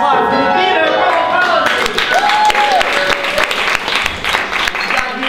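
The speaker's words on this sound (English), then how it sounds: "make a big round of applause" Sustained audience applause, dense and loud, with a whistle and cheering voices mixed into the clapping throughout.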